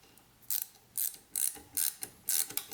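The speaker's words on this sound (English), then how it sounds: "I'm going to try to see if I can get one of these screws in here" A screw being driven into a carbon part on an Audi A3 VR6 build produces six evenly spaced bursts of ratcheting clicks, close and fairly quiet, with brief pauses between strokes and no talking.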